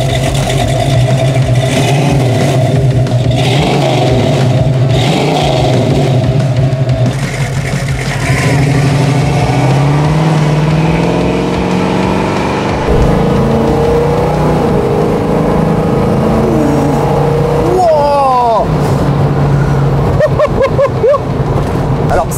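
An old car with a 3-speed automatic gearbox drives and accelerates, its engine rising and falling through gear changes with road rumble and some rattles, loud and close, continuing throughout.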